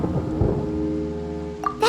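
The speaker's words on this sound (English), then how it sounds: "Paimon hears thunder!" A deep rumble of thunder rolls through a stormy scene in Genshin Impact, swelling early and then fading into a long low tail before a brighter sound cuts in at the end.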